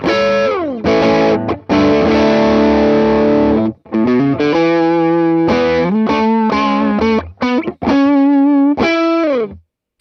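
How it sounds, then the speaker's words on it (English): Electric guitar through the Tube Screamer overdrive in Neural DSP's Morgan Amp Suite, loud chords and sliding notes with gaps of silence between phrases, mildly driven and dry, with no other sound. "a little bit of drive, but nothing crazy. The Tube Screamer side."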